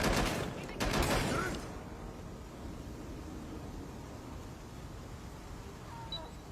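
Burst of gunfire in the video game Watch Dogs Legion, a loud rattling volley in the opening second and a half that gives way to a steady low ambient rumble with faint distant sounds.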